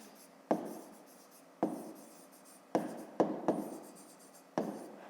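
Pen or marker writing out a fifth-grade math problem solution on paper, with scratchy strokes and six sharp taps as it touches down, close and quiet, no talking.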